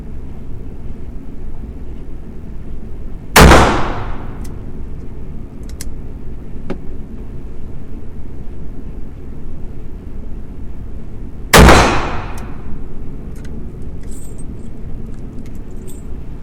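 Pre-WW1 French cavalry revolver fired twice outdoors, two sharp, loud cracks about eight seconds apart, each trailing into a short ringing echo over quiet background hiss.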